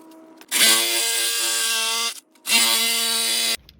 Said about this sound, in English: Obviously I don't have this perfectly lined up correctly because I'm using a Sawzall.